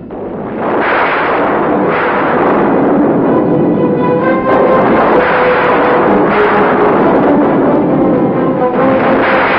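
A bomb goes off, bringing down a building in a Telugu movie: a loud, sustained rumbling blast with a roaring debris crash that swells and lingers for several seconds.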